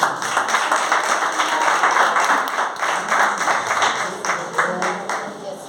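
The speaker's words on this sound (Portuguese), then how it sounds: "Irmão, você pode aplaudir o nome do Senhor." A church congregation claps together in a lively, rhythmic burst that stays steady and moderately loud for several seconds, with a few voices mixed in beneath.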